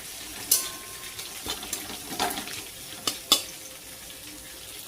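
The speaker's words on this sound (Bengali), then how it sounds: "এখানে ওই যে মাছের মাথা ভাজা করছি, আর এখানে করছি ডিম ঝুরিয়ে" Fish heads fry in one pan while eggs are scrambled in another in a hot home kitchen, giving a soft steady sizzle broken by scattered clinks and scraping stirs.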